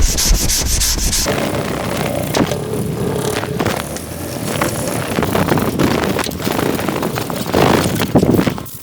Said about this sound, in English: Now we'll keep on sanding.